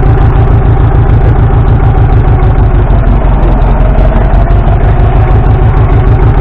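An International tractor's diesel engine runs in gasoline starting mode, a loud, steady close-up idle with an even low-pitched throbbing pulse lasting throughout, with no voices.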